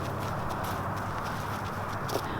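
A trained horse walks on command in a loose-lead groundwork session, its hooves clip-clopping steadily and close, with no talk over the footfalls.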